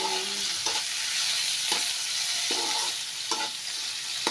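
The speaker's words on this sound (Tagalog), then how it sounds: "Tapos, sunod na rin natin yung kamatis. Haluin lang natin." Tomatoes fry in a pan for sarsado tilapia under a constant close sizzle, with a spoon stirring in several distinct scraping strokes spaced about a second apart.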